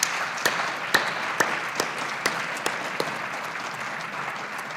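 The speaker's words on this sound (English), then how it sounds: "I think we should all give them a great round of applause before we announce our winner." A luncheon audience at a satellite-industry awards event applauds the nominees with sustained, even clapping from a sizable crowd. A few sharper, louder claps stand out near the start, then the sound settles into a steady wash.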